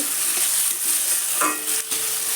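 Potatoes being stirred with salt in a hot frying pan for a cabbage dish: soft scraping strokes and a light, steady sizzle, close and without talk.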